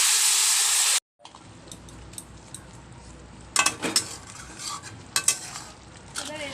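Spice paste for a Bengali banana-flower curry fries softly in a pan, with a quiet sizzle and a few sharp clinks and scrapes of a spoon stirring against the pan, following a brief loud burst at the start.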